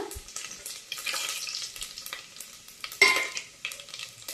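Whole spices such as cinnamon, cardamom and cloves fry in a pan for chicken dum biryani, giving a soft, close sizzle broken by stirring scrapes and one sharper clatter partway through.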